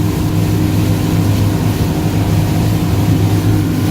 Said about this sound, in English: the boat takes off like really quick